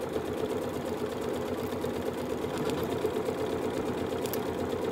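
A Janome sewing machine stitches a one-step buttonhole, giving a steady, fast mechanical whir with even needle clatter, close and continuous throughout with no talking.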